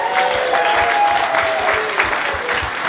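Wedding guests applaud at a reception during the speeches: a loud, dense wash of clapping from a crowd that holds steady for a few seconds, with faint room noise and no speech on top.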